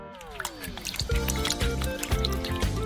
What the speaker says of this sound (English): we pour them into the sink and fill it with water